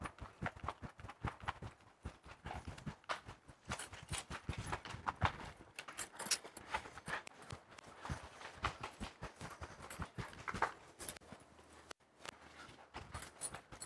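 A mare's hooves clip-clop at a steady walk across changing surfaces around a riding arena, from light and dark ground onto wood, the footfalls close and distinct with a few faint scuffs between steps.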